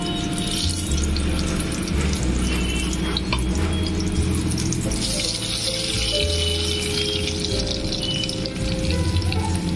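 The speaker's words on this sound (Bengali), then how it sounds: "টমেটোটা আমি একটু ভেজে নেব।" Tomato paste mixed with ginger and green chilli frying in a pan over a low gas flame, a continuous watery sizzle and bubbling with shifting, hissy bursts, fairly loud and close throughout.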